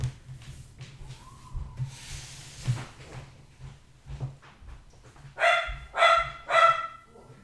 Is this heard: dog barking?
yes